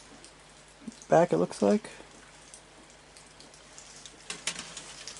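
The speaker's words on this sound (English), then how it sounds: "In case you're wondering, yes, it's raining." Rain patters steadily outdoors as a soft, continuous hiss in the background, while someone briefly speaks over it.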